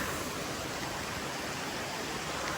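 Rushing water roars in a steady, dense hiss, like a small river flowing close below a bridge, with no break or variation.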